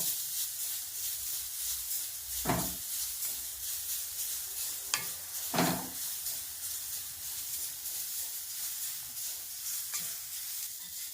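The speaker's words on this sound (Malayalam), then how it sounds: "ആ ചീനച്ചട്ടിയിലേക്ക് 1 കപ്പ് തേങ്ങ ചിരകിയത് ഇട്ട് കൊടുക്കുന്നു" Grated coconut, about a cup, stirred and toasted in a frying pan for a sweet rice-flake ball recipe, giving a soft steady sizzle with a few sharp scraping stirs of the spatula standing out.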